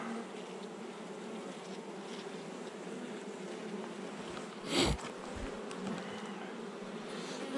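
Bees buzz steadily around a cluster of beehives, a dense continuous hum with a brief louder pass close by near the middle.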